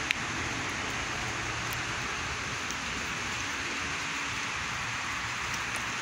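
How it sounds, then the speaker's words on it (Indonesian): Light drizzle falling steadily outdoors after heavier rain, a soft continuous hiss of fine raindrops with no talking. "hujannya udah mau terang meskipun masih rintik-rintik itu permisa"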